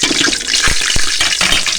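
Water poured into a pot of rice with cumin, bay leaf and a cinnamon piece, about a liter and a half added for Kashmiri rice; a loud, steady splashing, gurgling pour, close up, with no voices.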